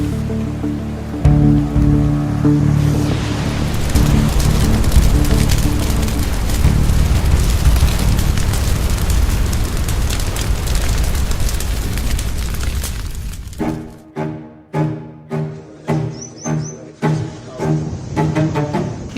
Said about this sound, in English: A blast and an inferno at a nightclub in Goa